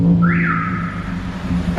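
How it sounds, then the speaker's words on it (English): A car alarm triggered by a revving Lamborghini Aventador Roadster sounds as a single rising electronic whine that holds a steady tone for about a second over a low rumbling background, fairly loud and close. "every time I rev, this guy's car alarm goes off."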